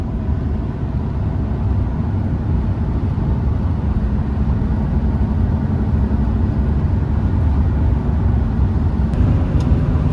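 A car cruising along an open road through flat eastern Montana, a steady low engine drone and tire rumble from inside the cabin, constant and moderately loud with no talking.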